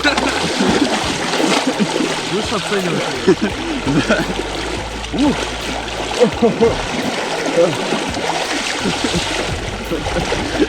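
People dipping into a cold river in Beloretsky District, Bashkortostan, water splashing and sloshing steadily around them while voices exchange brief words nearby.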